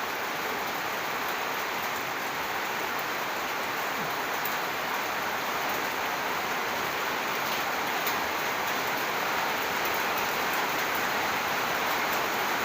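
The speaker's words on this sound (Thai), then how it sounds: "โอ้เสียงฝนตกรบกวนหน่อย" Steady, dense rain falls throughout, a continuous even hiss with no breaks, heard during indoor repair work on an oscillating fan with no speech over it.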